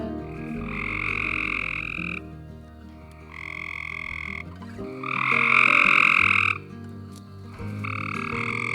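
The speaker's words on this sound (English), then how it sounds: "I literally could not believe how many frogs are in this pool right now." A dense chorus of frogs croaks from a chlorinated backyard stock tank pool, rising and falling in loud, overlapping bursts with brief quieter gaps and no voices.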